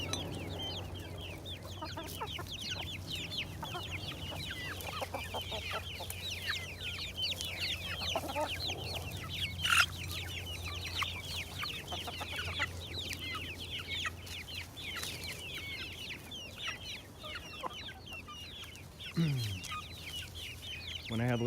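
Chickens of mixed sizes and ages clucking and chirping steadily in a backyard coop, many overlapping calls under a low hum, with occasional louder squawks.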